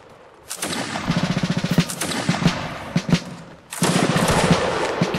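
Musket gunfire from a line battle in the Mount & Blade video game, loud and close, a ragged rattle of many shots, then a brief lull before another dense burst.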